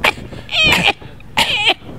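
Two sharp, raspy coughs a second or so apart, close and loud, each a strained burst with a breathy, croaky edge.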